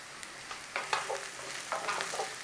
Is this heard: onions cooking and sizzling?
yes